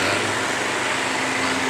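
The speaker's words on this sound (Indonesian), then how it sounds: "Oke, setelah ini kita akan tes menggiling kopinya ya. Kopinya kita giling." A coffee grinding machine, under repair for producing dirty, uneven grounds, runs as a steady, loud mechanical whir with a constant motor hum and no pauses for the whole short moment.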